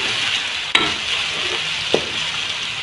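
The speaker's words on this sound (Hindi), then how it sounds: "इसको बहुत अच्छे तरीके से फ्राई करना है।" Ginger garlic paste fries and sizzles in a karahi while being stirred, a steady hiss broken by two sharp clanks of the spoon against the pan, close and clear.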